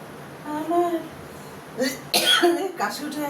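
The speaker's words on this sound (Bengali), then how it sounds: "কাশি উঠে যাচ্ছে" A person breaks off singing to cough a few times, the coughs short, close and raspy, following a brief sung phrase.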